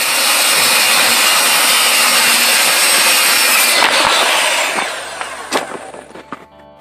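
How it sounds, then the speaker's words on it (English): A loud laser-guided power tool grinds steadily through wood for aquaponic grow beds for several seconds, then winds down, leaving scattered clicks and knocks. "Power tools with laser beams are awesome."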